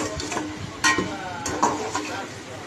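A spoon stirs onion tomato masala in a pan for mushroom biryani, giving close scraping strokes and a couple of sharper clinks against the pan over a soft, continuous sizzle.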